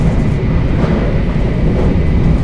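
Steady, loud rumbling roar of a Shinkansen Nozomi bullet train at speed passing Shizuoka Station, heard from inside as a continuous low drone and rail hiss with no voices.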